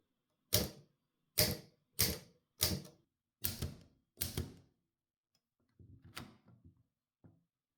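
Six crisp, evenly spaced keystrikes clack from a 1920 Typo model B typewriter, followed by softer mechanical rattles and a final light click.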